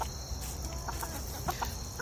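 Long-lived ornamental chickens, including the endangered Japanese Onagadori breed, cluck in short scattered bursts over a steady background hum, with a few sharper calls standing out.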